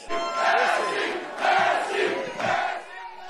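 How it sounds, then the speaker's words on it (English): A crowd roars and cheers at an election night event, rising in three loud surging waves with dense voices filling the room. "the Massey crowd is roaring"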